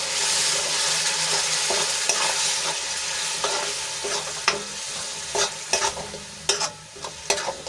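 Tomato puree from three large tomatoes being stirred into frying masala for a cabbage curry, with a steady sizzle and repeated scraping spoon strokes that grow sharper toward the end, close and alone without talk.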